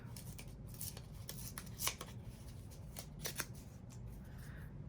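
A piece of paper is torn by hand for a handmade journal, giving a continuous crisp rustling with several sharper ripping bursts over a steady low hum.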